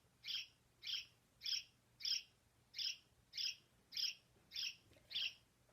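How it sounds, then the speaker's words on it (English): A house sparrow gives ten evenly spaced, clear chirps, one roughly every half second, fairly close and alone against a quiet background. "They just make a chirp."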